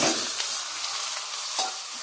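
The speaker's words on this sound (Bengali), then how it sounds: "চিকেনটা দিয়ে একটু নাড়াচাড়া করবো ভালো করে" Chicken pieces being stirred and fried in a pan with ginger, with a steady close sizzle, scraping stir strokes and a brief louder clatter near the end, without any talk.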